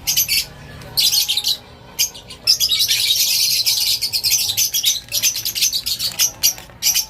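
Many small pet birds in a breeding aviary chirp and squawk in rapid, busy bursts nearby, a dense chattering flock with brief gaps.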